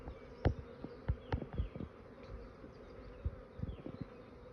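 Honeybees in an open beehive buzz faintly and steadily, with scattered louder wingbeat passes of individual bees flying close by; no voices.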